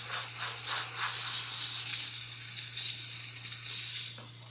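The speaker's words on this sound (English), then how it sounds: "a really good high quality steam coming out of this thing" Steady, loud steam hiss from a Quickmill Silvano EVO espresso machine's wand, continuous throughout with slight surges, over a constant low hum.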